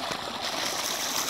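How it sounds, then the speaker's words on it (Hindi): Irrigation water runs through a garlic field during the crop's second watering, giving a soft, continuous trickle and rush that holds steady for a brief moment. "इसमें ये दूसरा पानी चल रहा है।"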